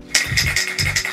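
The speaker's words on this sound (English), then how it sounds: "let's stop talking and let's just spray this." A spray paint can sprays in a rapid series of short, sharp hissing bursts up close, sputtering unevenly as if running low.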